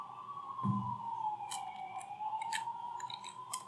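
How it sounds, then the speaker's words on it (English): A distant siren wails outside in a slow, sliding tone, with a few faint clicks and rustles nearby. "can you hear the um, siren or whatever going on outside"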